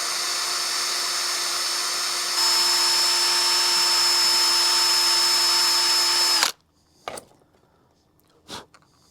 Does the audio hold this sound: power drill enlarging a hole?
yes